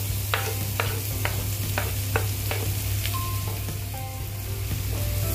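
Garlic frying in hot oil with cumin and dried red chillies for dhaba-style lasun methi, a steady sizzle with a constant low hum and a series of sharp spoon taps against the pan.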